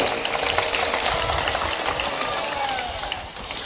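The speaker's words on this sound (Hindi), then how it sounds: "तालियां कमजोर हैं बाबा" An audience applauds in a steady, dense wash of hand claps that holds at a fairly even level for a few seconds, then thins slightly toward the end.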